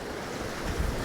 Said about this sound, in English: the wind has picked up really bad at the moment